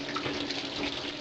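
Steady stream of cold tap water running while rinsing silver carp, a continuous hiss and splash at moderate volume with no voices.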